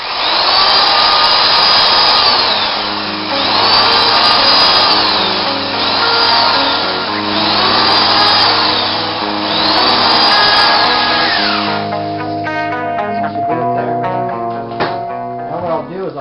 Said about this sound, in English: Try to keep the drill at the same angle all the way down